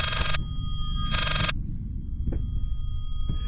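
A telephone rings in the horror video game Layers of Fear. Two loud electronic bursts sound, each lasting under half a second to a second, over a low ambient rumble, and faint soft thuds follow afterward.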